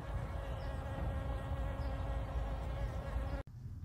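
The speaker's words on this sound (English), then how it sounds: "the bees are really happy here this morning" Bees buzz steadily around potted dragon fruit plants on a morning, a close, continuous insect hum that holds level before cutting off near the end.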